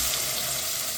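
Tomato and onion frying in a little olive oil, a dense, even sizzle heard close up for a brief moment with no voices.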